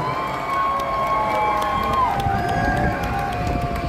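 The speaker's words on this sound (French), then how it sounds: "Est-ce qu'on peut faire un tonnerre d'applaudissements pour les couturières" A large audience at a live show cheering and shouting together at a distance, a broad sustained roar with whistles and scattered clapping.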